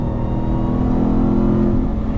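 A RAM TRX pickup truck with a 702-horsepower engine accelerates, its loud, steady engine roar sustained and close throughout, with no voices over it.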